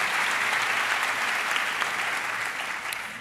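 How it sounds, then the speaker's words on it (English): A school convocation crowd applauds teachers of the Real program at Heights High with a full, even burst of clapping that holds steady and begins to taper near the close. "Let's give them a round of applause for that work."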